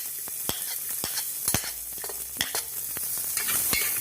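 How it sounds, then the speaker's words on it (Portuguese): Onion with a little oregano hits hot oil with browning garlic, a bright continuous sizzle broken by sharp clicks and taps of a spoon stirring in the pan, near and without talk. "Eu vou colocar a cebola com um pouquinho de orégano"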